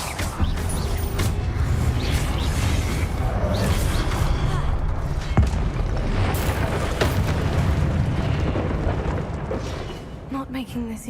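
A Confringo fire-blast spell cast in the Hogwarts Legacy video game, heard as a continuous loud rumbling, crackling burst of magical explosion noise with game ambience, sustained across the clip and easing near the end.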